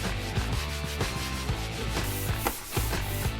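A cloth soaked in anti-silicone cleaner rubs hard over the neck of a plastic jerry can, with rapid, continuous scrubbing strokes, close and busy, and a brief lull near the end.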